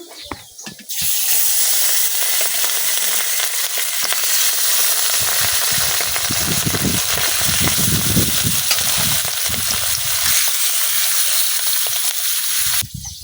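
Pieces of fish rubbed with salt and turmeric fry in hot oil in a pan, giving a loud, continuous, hissing sizzle up close that starts abruptly and runs steadily throughout.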